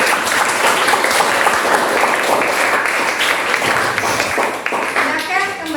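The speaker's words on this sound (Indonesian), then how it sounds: "Tepuk tangan untuk semua kelompok." Classroom applause for all the groups, as children clap steadily and loudly together with some chatter mixed in, the clapping thinning slightly toward the end.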